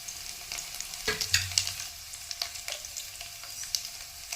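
Garlic and dried red chillies sizzle and crackle in hot oil, with scattered pops and a few stirring scrapes, close and steady throughout.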